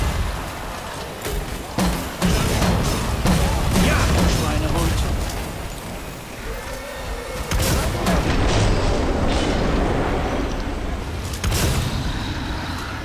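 Explosions in the Killing Floor 2 video game, repeated heavy booms and blasts amid chaotic gunfire and action noise, with players talking over the top.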